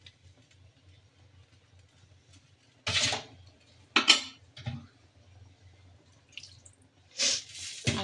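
Water is poured into a pot of lentils in a home kitchen, giving short splashing bursts alongside clinks of the pot over a low, steady background hum.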